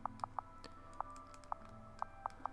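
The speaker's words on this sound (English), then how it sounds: "So now I'm just going to quickly type this again." Quick typing on a computer keyboard: about a dozen crisp, close key clicks in an uneven rhythm over a faint background hum.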